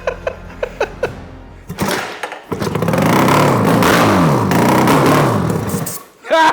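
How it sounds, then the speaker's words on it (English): A few sputtering pops, then an old Yamaha two-stroke twin motorcycle engine catches and revs loudly with a buzzing, raspy tone before cutting off abruptly. "That's a running motorcycle right there."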